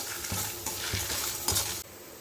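Sliced bitter gourd roasts in a pan for pavakkai pitlai, with steady sizzling and soft scraping strokes of a spoon stirring it, close and alone.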